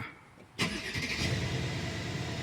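A Mercedes S550 engine starts after a speed sensor fault repair, a quiet interior hum suddenly giving way to the starter catch and a steady, loud idle that continues to the end.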